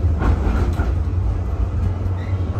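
A Melbourne tram passing nearby, a steady low rumble with rolling rail noise and faint clatter, continuous and close for the whole stretch.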